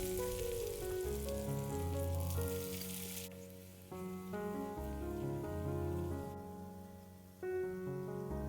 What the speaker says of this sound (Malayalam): പപ്പടം വറുത്ത അതേ എണ്ണയിലേക്ക് ചെറിയുള്ളിയും വറ്റൽമുളകും